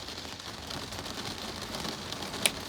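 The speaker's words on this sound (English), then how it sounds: "God, the rain." Rain falls outdoors in a steady, dense hiss of drops on surfaces, moderately loud and constant, with one sharper drip near the end.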